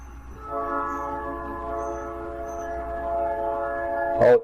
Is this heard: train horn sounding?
yes